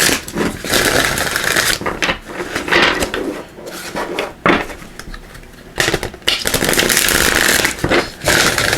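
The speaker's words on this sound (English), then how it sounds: "let me just give these a shuffle here" Tarot cards shuffled by hand in a steady run of papery riffling and rubbing, close and fairly loud, with brief pauses between bursts and no talking.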